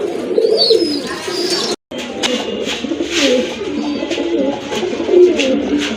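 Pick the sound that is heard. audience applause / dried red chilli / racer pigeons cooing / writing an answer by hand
racer pigeons cooing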